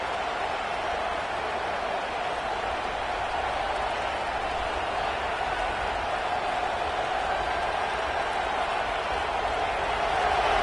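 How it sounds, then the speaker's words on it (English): Stadium crowd in a college football video game, Oklahoma vs LSU, a dense continuous roar of cheering that swells slightly toward the end, with no clear talk over it. "And this crowd coming to life here trying to help the defense get a stop"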